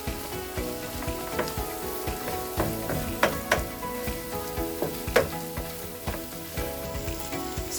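Tomatoes cooking in a pan for chicken gizzard gravy, a steady soft sizzle and bubbling with small pops and crackles, close and moderately quiet, with no voices.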